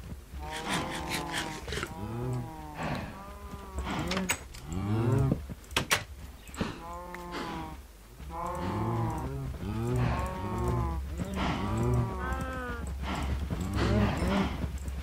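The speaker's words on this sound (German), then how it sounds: "Dann müssen wir als nächstes noch ein paar Kühe mit dem Wheat bewerfen." Minecraft cows moo over and over in a crowded herd, with loud, drawn-out calls overlapping one another across the whole stretch above a low, steady background hum.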